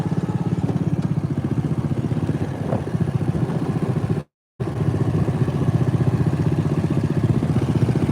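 A John Deere riding mower engine runs steadily but a little rough, as if firing on one cylinder, with a close, continuous drone that cuts out briefly midway.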